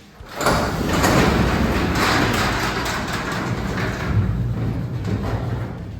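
A repaired garage door that had come off bent tracks rolls back upward, giving a loud continuous rumbling rattle close by that holds steady for several seconds.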